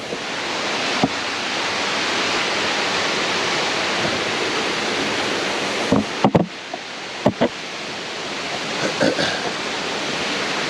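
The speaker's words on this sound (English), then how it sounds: "Nice little waterfall over there." Small waterfall beside a hiking trail in the Three Ridges area of Virginia, a steady loud rushing roar throughout, with a few faint knocks and brief footstep-like sounds near the end.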